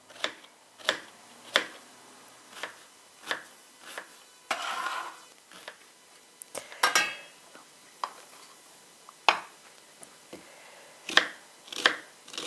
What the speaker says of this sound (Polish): jak ja skroję cebulę